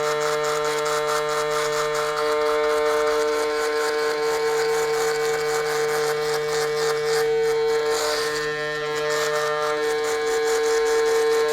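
Electric hair clippers fitted with a 0.5 guard cutting hair for a drop fade, a loud close steady motor buzz with a strong tonal hum that continues throughout.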